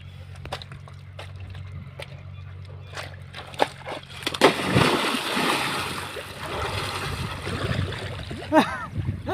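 Splashing and sloshing water as people bathe and dive in a lake, loud and close, starting after a few seconds of quieter sound and continuing in bursts, with voices talking and calling nearby.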